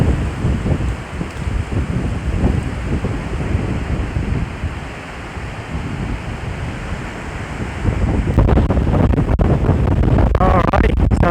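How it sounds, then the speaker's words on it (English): Strong wind on a ridge line buffets the microphone in loud, continuous roaring gusts that swell again toward the end, with crackling rustle mixed in. "As you can see, the wind's going pretty crazy."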